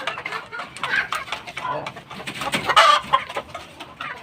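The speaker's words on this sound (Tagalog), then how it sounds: "Mga gutom na yung mga manok," Hungry chickens cluck steadily in a close, busy chorus of overlapping calls that rise and fall across the whole stretch, with a brief sharper squawk near the end and no talking.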